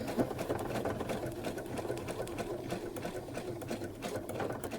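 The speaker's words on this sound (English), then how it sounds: "I'm sewing in position a couple of times, and that's enough" Close, even whirring of a sewing machine running steadily as it stitches around the outline of a bohemian spring quilt block, unbroken for several seconds with no talking.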